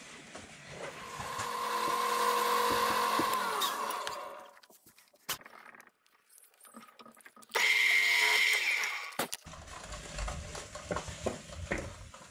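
Underside of a wooden guitar bridge rubbed across sandpaper on a small convex radius dish with a 30-foot radius, during a Florentine cutaway guitar build: a long, steady scraping pass, a quiet pause, then a second shorter stroke.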